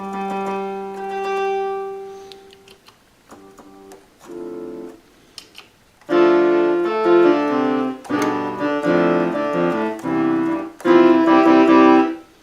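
A Polymoog synthesizer with badly set volume and dynamics plays a preset: a sustained tone, a few short blips, then loud, bright chords whose volume jumps unevenly from one to the next.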